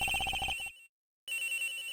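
An electronic phone ring from the Ace Attorney Investigations game pulses rapidly, cuts to total silence for about half a second, then starts trilling again, loud, close and unaccompanied.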